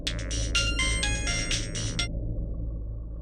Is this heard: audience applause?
no